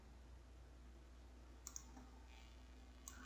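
A single computer mouse click on an OK button, then a second faint click about a second and a half later, both small and close against a quiet steady room hum.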